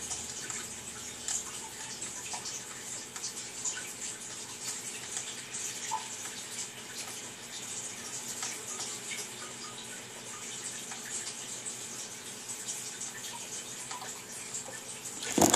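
Water splashes and trickles continuously at close range from a waterfall in the Far Cry 3 video game, a steady rushing flow with small drips.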